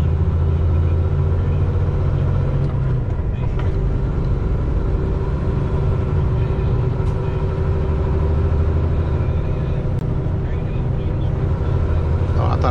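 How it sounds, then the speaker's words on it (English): Heavy road traffic in Atlanta heard from inside a vehicle, a continuous loud low rumble of engines and tyres with a steady drone, while a person talks over it. "Atlanta traffic."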